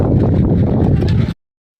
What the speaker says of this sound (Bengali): এখানে প্রচুর পরিমাণে হাওয়া দিচ্ছে।